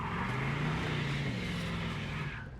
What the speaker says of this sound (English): See, it'll peel the tires too.